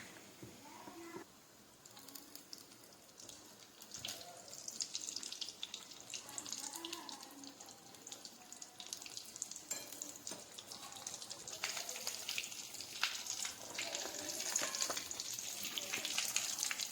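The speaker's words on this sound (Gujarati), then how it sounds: "તો આ રીતે આપણે બધા બટાકાવાળા તળી લઈશું।" Batata vada, potato balls dipped in batter, frying in hot oil with a steady close sizzle and bubbling, plus occasional clinks and stirring sounds throughout.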